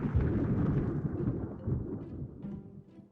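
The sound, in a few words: thunder after lightning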